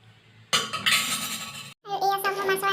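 Short clinks and a metallic clatter of a lid set onto a pot of simmering Assamese sour fish curry with fried singhi fish, close and fairly loud, with brief pauses between knocks.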